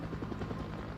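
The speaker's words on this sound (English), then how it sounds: "This is the sound of King County's Guardian 2 helicopter pulling a 51-year-old man to safety" King County's Guardian 2 rescue helicopter hovering during a hoist rescue, with a steady, loud low rotor thump and broadband roar filling a brief moment.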